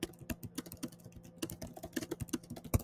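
Typing on a computer keyboard while notes are entered beside charts: a steady run of close, crisp key clicks in uneven bursts, with a slightly heavier thump near the end, and no voices.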